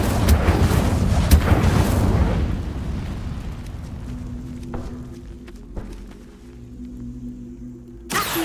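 A fiery spell bursts out in Hogwarts Legacy, a loud whooshing blast with crackling flames over the first two seconds, fading into quieter ambient tones and a few soft thuds, ending with another brief burst.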